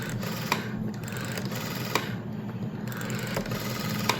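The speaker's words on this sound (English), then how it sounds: "It's going to have the 20 pulse per second rotary dial." A rotary dial on a black 1973 Japanese 600A2W telephone with a 20-pulse-per-second mechanism produces a steady mechanical whirring buzz under rapid, even clicking. A few sharper ticks mark the start and end of each return.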